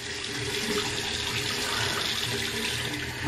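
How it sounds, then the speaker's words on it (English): Water runs steadily from a tap, a continuous close hiss and splash with no breaks. "I'm gonna put water in it."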